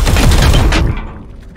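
Rapid burst of video-game gunfire in Warhammer 40k: Chaos Gate – Daemonhunters, a dense loud volley of booming shots over about a second that then fades out into a dim tail.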